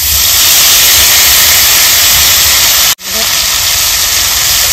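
Whole cumin and marinated spice paste sizzle loudly in hot mustard oil, a dense, steady hiss with one brief dip partway through before it resumes.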